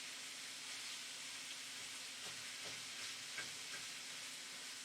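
Beef sizzles steadily in a hot pan as the chunk is broken up, with soft scraping and stirring clicks over a dense, continuous frying hiss.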